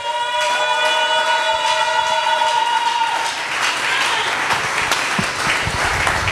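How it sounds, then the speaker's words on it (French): A church congregation breaks into loud, sustained applause that swells into dense clapping. A steady held tone rings above it at first. "Est-ce qu'on peut acclamer pour la parole?"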